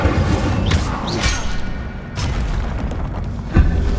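A fire spell is cast in the Hogwarts Legacy video game, bursting out as loud, dense whooshing booms, with a heavy thump near the end.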